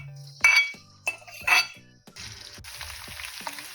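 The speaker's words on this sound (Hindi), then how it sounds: "अब इसमें डालते हैं हम लहसुन और अदरक का पेस्ट।" Garlic and ginger paste dropped into hot oil in a pot for beef achar gosht, bursting into a loud crackling sizzle with metal clinks of a spoon against the pan, then settling into steady frying.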